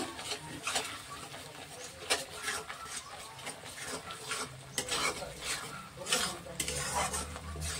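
Dhoka masala stirred and fried in oil in a pan, with a spatula scraping the metal in a steady rhythm over a soft, continuous sizzle, close and moderately quiet.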